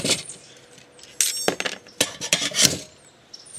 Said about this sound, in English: Here's our Altoids stove. It sits down in there.